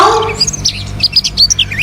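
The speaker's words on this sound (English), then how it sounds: "Yes, it's a bird chirping sound." Birds chirping outdoors on a sunny morning, a rapid series of bright, short tweets and whistled notes repeating close by and clearly, with no one talking.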